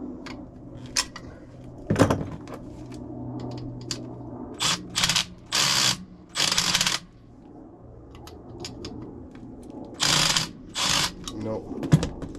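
Ratchet socket wrench clicking in short bursts while turning on the motor of an old Trane air handler, close and fairly loud, separated by pauses with faint background noise.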